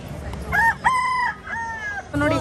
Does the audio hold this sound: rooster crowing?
yes